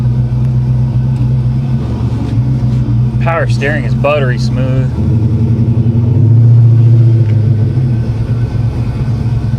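A 1940 Chevy hot rod engine idles with a steady, close, low rumble, and someone talks over it for much of the time.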